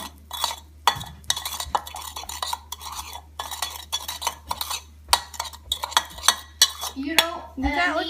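Sugar and cinnamon being mixed in a bowl with a utensil, a rhythmic series of close scraping and clinking strokes with short pauses between them.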